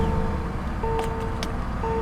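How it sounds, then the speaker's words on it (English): Hyundai Equus with a 5-liter direct-injected Tau V8 idles with a low, steady rumble, while repeated electronic chime tones sound over it from the cabin. "what you're hearing is that 5-liter direct injected Tau Series V8."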